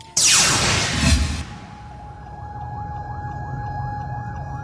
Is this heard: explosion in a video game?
no